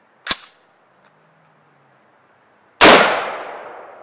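A Wolf A1 T91 AR-15 piston upper on a semi-automatic lower fires single steel-cased Wolf .223 rounds: a sharp crack, a quiet click, then a second loud, close report with a long fading ring.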